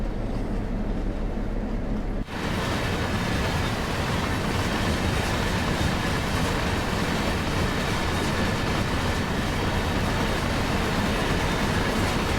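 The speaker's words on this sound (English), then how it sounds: "there's another train, quite a busy line this is." A train passes on a busy line in the Train Sim World 2 video game. A loud, continuous rumble and clatter cuts in abruptly after a quieter start and holds steady to the end.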